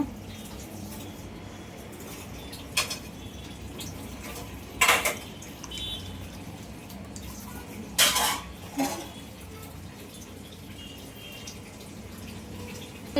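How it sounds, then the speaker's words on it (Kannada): A metal kadai set down and handled on a stove before oil is heated for badushah sweets: a few sharp clanks and scrapes of metal cookware at close range, spaced apart, with no talk. "ಇವಾಗ ನಾನು ಒಂದು ಕಡಾಯಿ ಇಕ್ತೀನಿ ನೋಡಿ. ಎಣ್ಣೆ ಬಿಸಿ ಆಗಲಿ."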